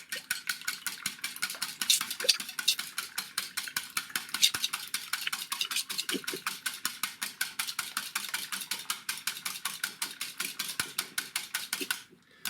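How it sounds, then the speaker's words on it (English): Eggs being whisked in a bowl: a fast, even, continuous clicking of the whisk against the bowl, close and steady for about twelve seconds before stopping abruptly. "And then just whisk up the eggs."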